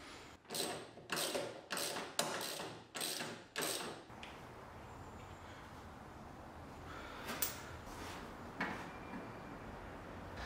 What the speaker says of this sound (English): With your ratchet or socket tool, remove these.